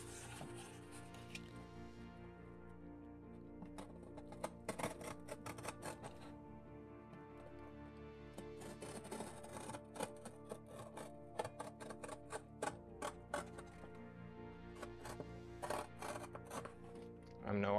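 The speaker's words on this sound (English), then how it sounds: "we'll cut out a circle from that and see how well it fits" Scissors snip repeatedly at close range, cutting a circle out of material for a mini projector bulb comparison, with irregular bursts of clipping sounds and short pauses between them.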